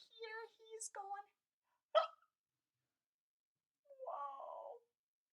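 A voice imitates a little penguin's hiccups, several short sharp hiccup sounds with gaps between them, then a longer squeaky vocal sound, close and fairly quiet.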